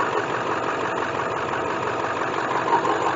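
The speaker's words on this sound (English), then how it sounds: "We got the belt right off the engine, going down the alternator, spinning it there" An International 4700 truck engine runs steadily at idle with the belt removed, a dense continuous mechanical hum with a faint knocking texture, close and constant throughout.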